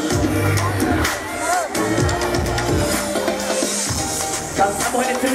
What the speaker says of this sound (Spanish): Aplauso para ustedes.